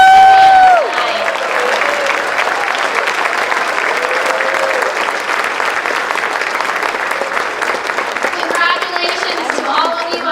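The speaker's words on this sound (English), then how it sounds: "another round of applause for all of our stars tonight" A large audience at a school district awards evening applauds loudly and continuously, a dense wash of clapping with some cheering, after a brief voice at the start.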